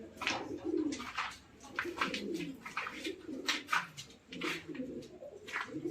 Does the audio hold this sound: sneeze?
no